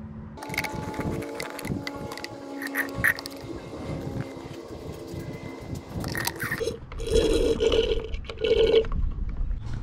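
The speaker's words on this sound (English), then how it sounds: "removing the brake fluid again" Brake fluid drawn out of the reservoir of a 2019 Toyota Sienna, close wet slurping and gurgling suction with small clicks and handling noises, growing louder and more bubbly toward the end; no speech.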